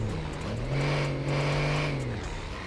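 A car engine in GTA 5 revs steadily and loudly, holding a rising, droning pitch with no break for under three seconds, alone without talk.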